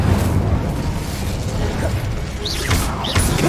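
Incendio fire spell cast in Hogwarts Legacy, a rumbling, crackling whoosh of flame over dense low combat noise, with a few faint chirps and swooping tones near the end.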